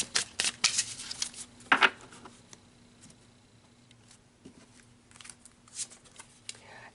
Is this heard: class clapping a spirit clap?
no